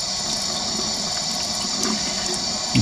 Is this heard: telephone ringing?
no